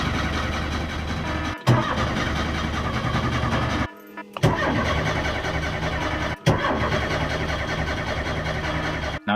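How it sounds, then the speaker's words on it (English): Ford Escort MK1 fitted with an ST170 engine, recently given a new crank sensor, cranking and trying to start, with a steady loud mechanical drone broken by a few brief cut-outs and restarts, no talking. "I'll start her up."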